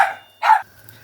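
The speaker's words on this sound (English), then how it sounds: "that was my dog barking" A dog barks twice nearby, two short sharp barks a moment apart.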